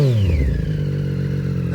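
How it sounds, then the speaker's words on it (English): A 2018 Triumph Street Triple 765 RS three-cylinder motorcycle engine revs up close, pitch dropping as it settles into a steady loud idle-like drone for under two seconds. "let's give it some rev so you can hear it."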